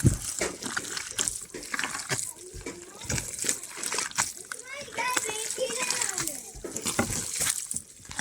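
Water pours and splashes into a tarhana mixture of yogurt and ayran being made in a traditional Adana-style kitchen, a continuous wet splatter mixed with clatter, while a child and an adult talk over it.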